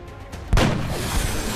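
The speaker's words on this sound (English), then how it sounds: "we'll try just hitting him with the sniper here" A single sniper rifle shot in the video game XCOM Enemy Unknown, one loud booming crack followed by a lingering rumbling tail, standing alone without talk.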